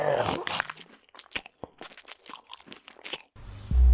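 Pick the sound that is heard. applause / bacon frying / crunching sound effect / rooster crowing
crunching sound effect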